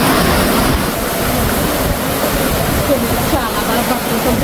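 At the Tel Dan waterfalls in Israel, rushing water makes a loud, constant broadband roar that fills the whole stretch, close to the microphone, with no clear voices.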